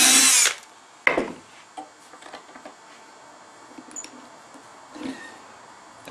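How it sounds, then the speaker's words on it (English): A power drill bores a dowel hole into wood through a Dowelmax jig, with a loud high-pitched whine for about half a second, a second short burst, then quieter tool handling and clicks. "drill in the chosen hole"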